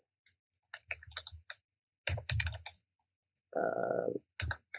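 Computer keyboard typing text in Photoshop, crisp close key clicks in short bursts separated by pauses, with a brief muffled thud near the end.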